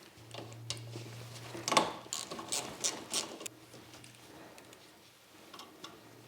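A ratchet backing out 12mm bolts from engine brackets on a Mitsubishi Lancer CE 4G93, a short burst of quick clicking and metallic rattles over a faint steady hum, close by.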